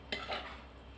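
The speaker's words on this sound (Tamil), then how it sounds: "அதுக்கு நடுவில் கொஞ்சம் கிளறி விட்டுருவோம்" A brief scrape and clink of a spoon stirring in a pot, with a soft bubbling simmer underneath; no talking.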